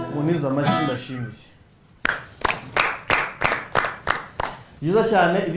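A small crowd claps in a short, rhythmic burst of about eight strong beats at a singing event, heard between stretches of a voice talking before and after.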